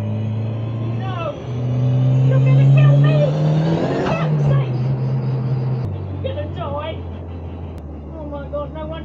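A Cosworth-powered classic Mk1 Ford Escort accelerates with a loud, rising engine roar that swells, peaks mid-run, then eases off to a steady rumble, heard from inside the car while people talk over it.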